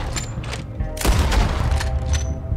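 Rapid gunshots ring out in Red Dead Redemption 2 as a quick volley of sharp, loud cracks and booms fires in close succession over a couple of seconds.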